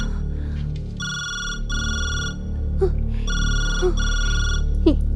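A telephone rings in two double bursts of electronic trilling, loud and close, with a muffled low background and brief clicks between the rings.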